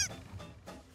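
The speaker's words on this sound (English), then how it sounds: "It was only a penguin." A cartoon penguin gives a short honking call, a few quick goose-like squawks in under a second, fairly faint and alone.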